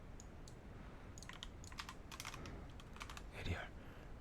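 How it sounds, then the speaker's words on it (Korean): Keys clatter on a computer keyboard as a shortcut is pressed and text is typed, a quiet scatter of separate clicks at a steady close distance over low background hiss. "컨트롤 H를 눌러서"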